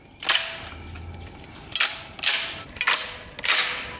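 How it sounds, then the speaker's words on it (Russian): A 50-round pistol fires in a ranch destruction game: five sharp, loud shots at irregular intervals over a faint mechanical background. "Так, впервые сейчас стрелять буду."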